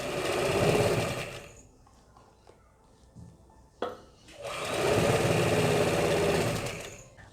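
A sewing machine stitches a zipper in two loud, steady runs, the motor whirring for about a second and a half at the start and again for roughly three seconds near the end, with a quiet gap between them.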